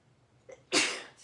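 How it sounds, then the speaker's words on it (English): A single sharp human sneeze bursts out loud and close after a brief sharp intake of breath, then trails off quickly. "Okay, I'm getting ready to sneeze."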